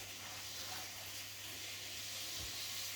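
Seven sausages and six pieces of bacon fry in a pan with a steady, even sizzle throughout, close and continuous with no talk.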